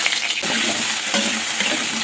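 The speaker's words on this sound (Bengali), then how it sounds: "ওই তেলেই আলু ফুলকপিও ভেজে নেব" Potatoes and cauliflower fry in the oil left from frying fish, giving a loud, continuous crackling sizzle close by with stirring scrapes through it and no speech.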